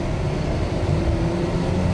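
Car engine pulling hard during an acceleration test drive after a brake job, a steady broadband road and engine rumble with no voices.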